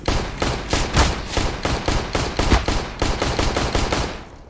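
Counter-Strike: Global Offensive automatic weapon fire, a steady rapid stream of about a dozen evenly spaced loud shots that cuts off at the end.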